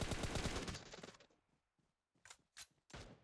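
Gunfire in a PUBG battle royale match: a loud burst of shots up front, then three short, sharp reports spaced apart after a brief lull.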